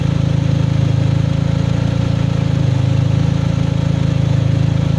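A Mercedes-Benz SLK 230 with a turbocharged M111 four-cylinder engine idles roughly with a low, uneven rumble and vibration, the engine rocking on its mounts, steady and close throughout.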